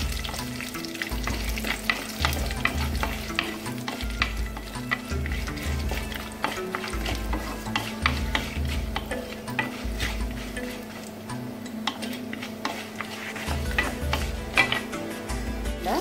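Cashews, mustard seeds, urad dal, curry leaves and peanuts frying in hot oil for vangi bath, a dense continuous crackle with rhythmic stirring scrapes and small ticks throughout, close and steady.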